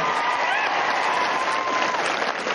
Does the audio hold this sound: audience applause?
yes